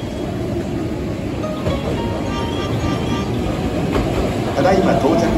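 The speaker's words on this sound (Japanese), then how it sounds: "まもなく1号線に神戸三宮方面へ向かう電車が到着します" A Hankyu Kobe Line 8000 series train rumbles steadily alongside a Japanese station platform, growing a bit louder near the end as it pulls in, with a Japanese public announcement voice over it.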